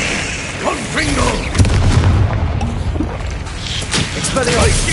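A booming Confringo spell explosion from Hogwarts Legacy thuds out amid the clatter of wizard combat, with a character's voice calling out over the blasts.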